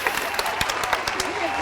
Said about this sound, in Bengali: হাততালি হোক ইঁদুরের মতন